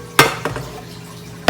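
A kitchen knife slices through a squash on a cutting board in a home kitchen, giving two sharp, close chops followed by a lighter knock, with faint background hum and no talking.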